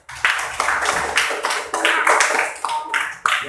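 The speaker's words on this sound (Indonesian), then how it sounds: "Teman tepuk tangan buat Tania." Classroom applause for a student, a short burst of hand clapping from a group of pupils at close range, with some voices mixed in.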